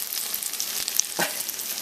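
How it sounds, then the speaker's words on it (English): Food fries in butter in a pan, a continuous close-up hissing sizzle with scattered small pops, and no one speaks. "Now they're in the pan. They look good. Frying in butter."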